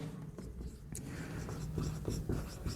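Chalk or a marker scratches across a board as a physics formula is written for a class. The soft, quiet strokes come in short bursts over a steady low background hum, and no voice is heard.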